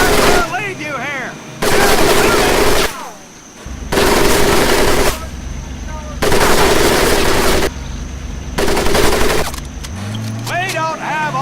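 Machine gun fire sweeping over a muddy swamp crawl in the Call of Duty WW2 campaign, loud sustained bursts alternating with short pauses, a voice speaking in the gaps.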